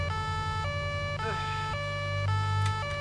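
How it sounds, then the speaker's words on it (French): Police car siren wailing in a two-tone pattern, loud and continuous over a low engine drone, with a brief warble midway and no talking. "ça serait bien que vous coupiez la sirène"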